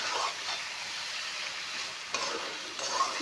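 Duck meat sizzles and crackles in a pan, a steady frying hiss with a couple of sharper bursts as it is stirred.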